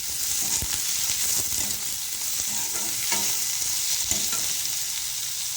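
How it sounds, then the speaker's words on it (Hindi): Chopped tomatoes are stirred into a frying pulao of rice and softened carrots in a pan: a constant close sizzle with the soft scrape and thump of a spoon moving through the mixture. "अब इसी के अंदर हम डाल देते हैं जो हमने टमाटर को कट करके रखा था उसे और मिला लेते हैं"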